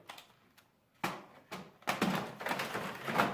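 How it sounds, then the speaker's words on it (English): A few soft thumps and plastic clacks, then a sliding, rustling shuffle of paper being pushed into the tray of a Xerox WorkCentre 6515 printer, close and fairly quiet. "Let's load some fresh paper into our printer."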